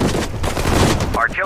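Loud, continuous gunfire from battling units in the WWII strategy game Sudden Strike 4, Pacific War campaign at Saipan, a dense fusillade with bright ricochet-like whines near the end.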